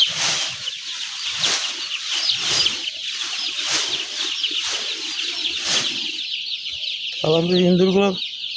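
A brooding shed holding fourteen thousand chickens fills with dense, overlapping clucking and chick peeping, with repeated bursts of wing flapping and a loud rooster-like call near the end.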